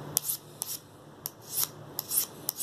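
A knife scrapes the side of an oboe reed in short, sharp strokes, about seven quick rasping passes in an irregular rhythm, close and quiet with no talking.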